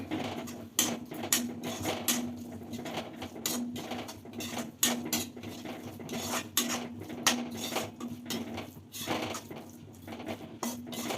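A spoon scraping and clinking against a steel bowl while amaranth leaf pickle is mixed with chilli powder, a rapid irregular series of close metallic taps and scrapes.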